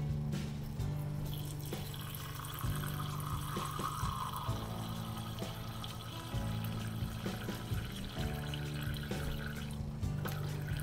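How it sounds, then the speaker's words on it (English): Distilled water pours in a steady thin stream into a container, softly trickling beneath background music. "you're going to add 49 gram of distilled water to it."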